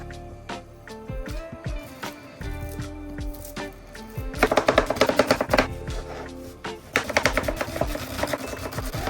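A shallot being chopped on a cutting board during fish and chips prep: rapid knife taps, sparse at first, then a dense, loud burst of quick strokes in the second half, with no talk.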